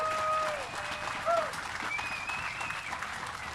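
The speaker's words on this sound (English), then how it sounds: "Let's give them a round of applause." Audience applause at a Bassmaster Elite fishing tournament on Lake St. Clair, a steady wash of many hands clapping for several seconds, fairly close, with a few brief whistles rising above the crowd.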